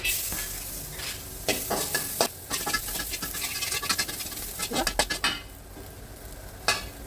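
Garlic sizzles and crackles in oil in a pan on a home stove for fried rice as it is stirred and scraped, with sharp bursts of spattering over a steady frying hiss.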